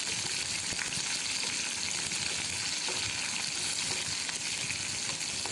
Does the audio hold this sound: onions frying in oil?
yes